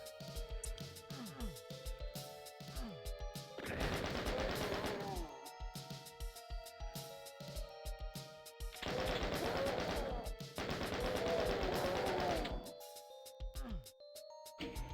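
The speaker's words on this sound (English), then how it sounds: "Oh, my shotgun." Shotgun blasts in the classic shooter DOOM, in a turbo-speed play of the Going Down levels, coming as a few loud booming bursts separated by quieter game sounds, with someone talking over parts of it.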